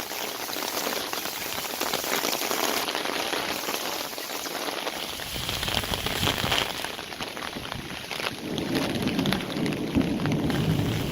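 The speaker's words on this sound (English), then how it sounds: "That was a hard downpour." Heavy rain pours down steadily onto a backyard drainage area, a dense continuous hiss of drops striking surfaces that stays loud and close throughout, thickening slightly toward the end.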